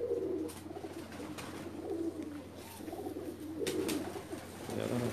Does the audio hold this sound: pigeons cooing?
yes